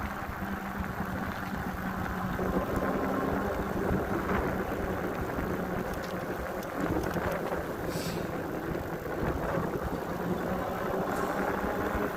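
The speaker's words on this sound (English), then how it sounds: "A little windy right now out here, but I love it." Steady wind buffeting outdoors at Graffiti Pier by low water, a constant broad rushing roar that persists throughout with no one speaking.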